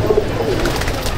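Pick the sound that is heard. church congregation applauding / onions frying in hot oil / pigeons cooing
pigeons cooing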